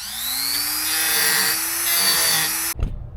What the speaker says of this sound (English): so I'm just going to use a Dremel.